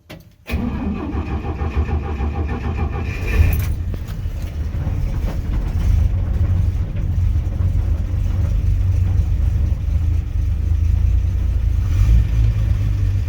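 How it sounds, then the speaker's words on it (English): Old truck engine cold-starting in about 7-degree weather with the choke pulled: a brief cranking burst, then it catches and settles into a steady, loud low rumble as it warms up at idle. "Let it warm up. Well, it started right up pretty good"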